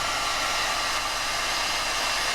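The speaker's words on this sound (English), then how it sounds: "being careful not to heat up the plastic too much with a hairdryer" A handheld hairdryer blows steadily and loudly at close range as it warms a plastic Alien Queen chestburster figurine kit, a constant broadband whoosh with no pauses and no voices.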